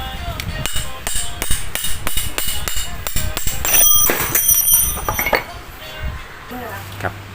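Sharp metallic taps ring out in a steady series as a hammer knocks out the rear bushing of a small electric fan, followed by a few clinks and a pause.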